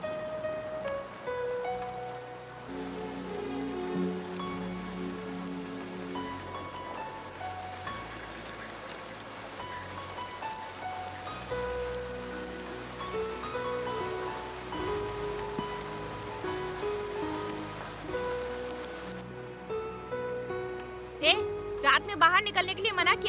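Night rain falls in a soft, continuous patter beneath a dramatic music score, with people speaking over it at times.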